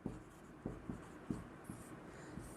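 Pen writing on paper while working a maths problem: quiet scratchy strokes with soft taps at the start of strokes, close and low in level, with no talking.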